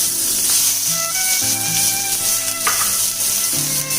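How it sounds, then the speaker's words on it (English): Chopped onion sizzles steadily in heated oil for fried rice, a continuous close frying hiss with faint stirring and tonal kitchen sounds. "So I have heated the oil, and now I will add some onion, not much."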